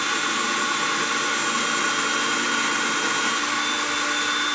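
A power drill bores through wood while building a model ship, its loud, steady whir running continuously and alone, with no pause or change in pitch.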